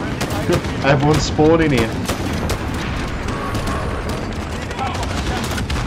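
Gunfire in the Call of Duty: Modern Warfare video game, rapid bursts and sharp shots cracking throughout while a player talks over the first half.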